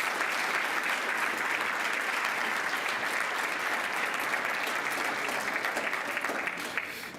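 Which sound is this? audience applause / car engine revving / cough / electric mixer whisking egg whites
audience applause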